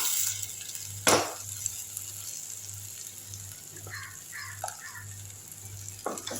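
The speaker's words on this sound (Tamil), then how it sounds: "எல்லாத்தையும் சேர்த்து நல்லா வதக்கி விட்டுருங்க ஃப்ளேமை கொஞ்சம் ஹை பண்ணிக்கோங்க நல்லா வதக்கி வரட்டும்" Ground tomato paste and spice masala sautéing in a pan over high flame, a steady quiet sizzle broken by a sharp stirring scrape early on and a few softer clinks later.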